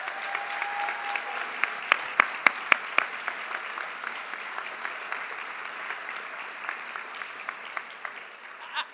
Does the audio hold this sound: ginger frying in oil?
no